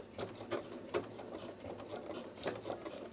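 A Janome Horizon Memory Craft 9480 sewing machine stitches automatically, a close, steady mechanical whirr with rhythmic clicks and small thumps from the needle mechanism, heard alone.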